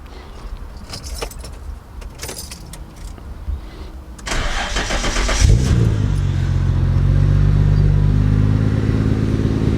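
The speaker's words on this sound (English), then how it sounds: "Oh, Integra. Little 7 a.m. cold start." Keys jangle, then a Honda Integra cold-starts at 7 a.m.: the starter cranks, the engine catches with a rev and settles into a loud, steady high idle.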